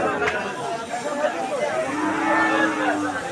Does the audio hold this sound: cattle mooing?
yes